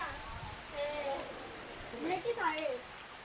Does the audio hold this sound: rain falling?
yes